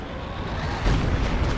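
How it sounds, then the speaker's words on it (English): Massive artillery strike explosion in the Company of Heroes 2 video game during an urban warfare match, a deep booming blast swelling midway over a rumbling background, loud and without talk. "Isn't that huge? It's a massive explosion."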